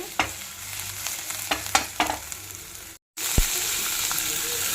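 Green chillies and onion frying on a slow flame for chilli chicken, a close sizzle broken by several spoon scrapes against the pan, a brief silent gap, then a louder hiss and one knock.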